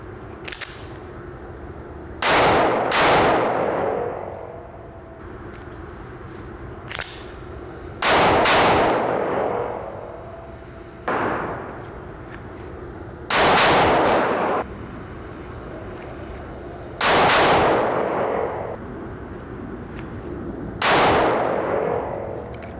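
Sig Sauer P365 SAS 9mm micro-compact pistol fires single loud, sharp shots about every two to three seconds, some coming as quick doubles, each followed by a short echo at an outdoor range, with no talking.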